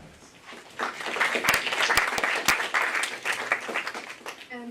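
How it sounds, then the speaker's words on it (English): An audience at a climate resilience conference session applauds, a few seconds of warm, steady clapping from many hands in a room, rising quickly and then tapering, with a few sharp near claps standing out. "please join us for a round of applause for Professor Minott as well"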